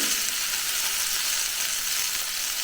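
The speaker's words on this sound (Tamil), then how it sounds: "கருவேப்பிலையை போடுங்க போட்டு நல்லா வதக்கிட்டு" Curry leaves sautéing in hot oil in a pan, a steady bright crackling sizzle that stays loud and even throughout with no voices.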